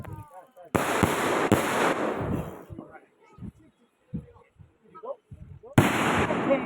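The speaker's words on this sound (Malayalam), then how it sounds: "വിഷുവിൻ്റെ തലേന്ന് കുറച്ച് പടക്കങ്ങളും കാര്യങ്ങളും ഒക്കെ പൊട്ടിച്ച വീഡിയോ" Firecrackers go off on the eve of the Vishu festival. Sharp crackling bursts land near the start and again near the end, and people talk in the quieter gaps between them.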